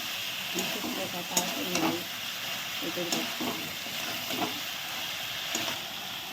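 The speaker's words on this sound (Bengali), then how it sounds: "দেখো মাংসটা এখন সুন্দর কষানো হচ্ছে" Goat meat cooking down with spices in a pan, a steady low sizzle with intermittent stirring scrapes across the pan throughout, with some faint background voice.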